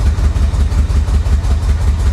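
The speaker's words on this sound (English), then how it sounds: "Now I'm gonna hit the throttle." Old Corvette engine, long abandoned in a Florida swamp and smoking heavily, running loud with a low, pulsing throb as the throttle is pressed, steady and close with no talk.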